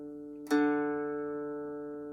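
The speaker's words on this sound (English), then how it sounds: "this bass string, the string farthest away from us and the thickest string, needs to be tuned to D" A single low plucked mountain dulcimer bass string, tuned to D, rings out with a sharp attack, then sustains and slowly fades, steady in pitch, alone and close.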